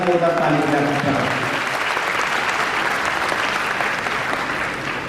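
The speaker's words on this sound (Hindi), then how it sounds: "जोरदार ताली बजा करके" A large audience at a medal and honours ceremony in Chhattisgarh breaks into loud, sustained applause for Brijmohan Agrawal. A voice briefly overlaps at the start before the steady wall of clapping carries on alone.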